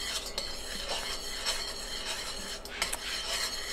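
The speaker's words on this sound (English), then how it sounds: "I stir this for a couple of minutes usually to make sure that it is well dissolved" Agar powder being stirred into a small pot of boiling water on a stovetop, a steady scraping and rubbing of a utensil against the pan with light clinks, close and continuous without any talk.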